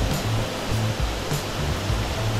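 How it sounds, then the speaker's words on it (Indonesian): Saliu waterfall in a valley of Mount Monrolo roars continuously, a loud, close, broadband rush of falling water with a low rumble beneath and no voices. "Beginilah suasana dari air terjun Saliu yang ada di lembah Gunung Monrolo."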